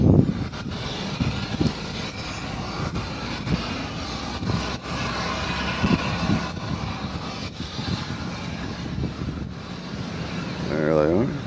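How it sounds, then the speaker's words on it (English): Delta Boeing 737-900 from Atlanta arriving at Nashville airport, a loud continuous jet engine roar with whining tones, swelling toward the end, under occasional nearby talk. "Next arrival is Boeing 737-900 coming in from Atlanta, Georgia."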